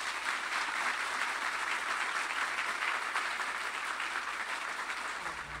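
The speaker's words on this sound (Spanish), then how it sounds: "Recibimos con un fuerte aplauso a Wellington Martínez" A crowd at an election campaign closing rally applauds steadily, dense clapping holding for several seconds before easing slightly at the end.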